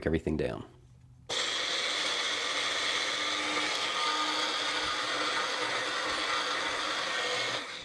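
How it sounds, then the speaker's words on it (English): A Magic Bullet blender grinds eggshells into grit with a loud, steady, gritty whir that starts abruptly after a brief quiet moment and runs on evenly. A voice speaks briefly at the very start. "I by no means know if the Magic Bullet blender is designed to be shimmied"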